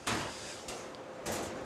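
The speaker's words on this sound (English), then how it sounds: "we can open the door" The door of a commercial dish machine in a restaurant kitchen slides open with a metallic scraping rush, followed by further sliding clunks and a rattle, close and moderately loud with no talk.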